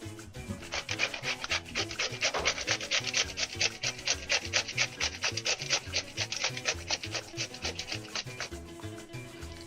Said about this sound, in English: So I will grate in my nutmeg